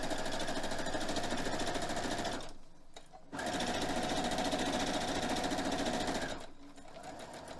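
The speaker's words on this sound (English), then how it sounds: "All right, let's sew this all the way down." A sewing machine stitches down a fabric tube in two long, loud runs of fast rhythmic chattering, separated by a brief pause and ending in a softer stretch.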